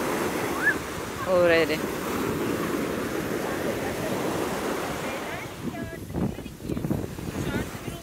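Heavy surf and gusting wind roll across a crowded beach on a day of huge waves, a steady broadband wash under scattered voices and brief speech from people nearby.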